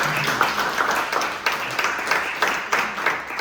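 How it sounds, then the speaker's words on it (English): An audience applauds speaker Kevin Garvey at a mindful-eating talk, steady clapping from many hands filling the room for a few seconds with a few sharper individual claps standing out. "put your hands together for Kevin Garvey"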